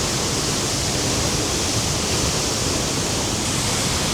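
A waterfall in Iceland in winter thunders as a steady, loud, dense rush of falling water heard from close behind the cascade, with no voices and no break in the roar.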